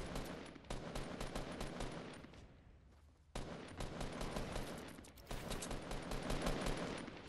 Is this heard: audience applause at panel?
no